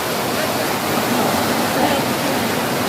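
Erumai Chavadi falls roars with a steady, dense rush of falling water, loud and close, holding even and unbroken throughout.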